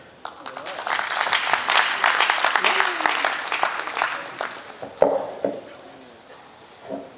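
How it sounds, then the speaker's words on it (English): Audience applause follows a talk at a conference session, a dense wash of clapping that swells, holds steady and then thins into scattered claps near the end, with a voice speaking over it. "Let's give him another round of applause"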